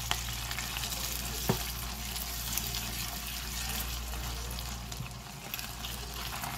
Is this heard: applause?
no